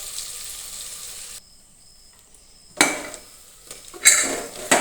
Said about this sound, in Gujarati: તો થોડી વાર માટે આપણે તેને ઢાંકી દઈએ, સીજવા દઈએ, જેથી કરીને ડુંગળી બટેટા બરાબર સંતળાઈ જાય